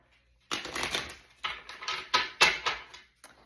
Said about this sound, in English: Okay, I'm going to shuffle again.